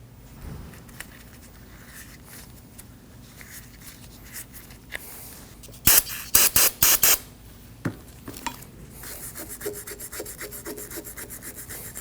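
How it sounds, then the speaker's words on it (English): A wire brush scrubs rusty brake slide pins on a 2015-2022 Chevrolet Colorado, with several short bursts of brake parts cleaner spray and rasping strokes midway, close and fairly loud. "we'll go ahead and clean these up with some brake parts cleaner and a wire brush"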